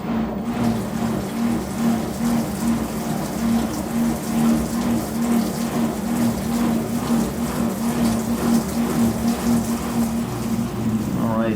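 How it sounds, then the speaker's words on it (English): An LG washing machine in its rinse cycle, spinning with a steady mechanical drone and a constant low hum, water sloshing and rushing throughout at an even, continuous level. "Now it's going through the rinse cycle, and it does a lot of spinning during this time."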